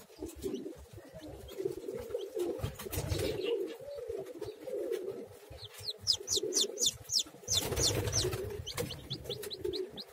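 Pigeons used to hatch chicken eggs coo softly and repeatedly, close by, with bright chirps and a brief flutter of wings mixed in.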